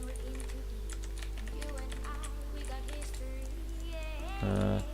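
Clicky typing on a new computer keyboard during a Minecraft livestream, a steady patter of keystrokes over a constant background hum, ending with a brief louder burst.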